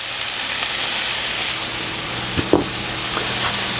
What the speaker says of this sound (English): And fry it over medium heat for 3 to 5 minutes